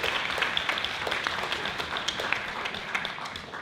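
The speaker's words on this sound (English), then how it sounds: "Round of applause." A modest crowd claps at a UK healthcare coalition launch event, producing a steady, moderately faint patter of applause that stays even and continuous throughout.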